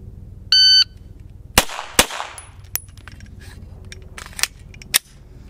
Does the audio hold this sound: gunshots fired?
yes